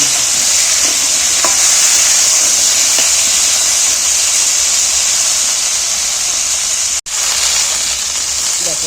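Potatoes and taro fry in a pan, giving a loud, continuous hissing sizzle with a few faint stirring knocks and one sharp click near the end.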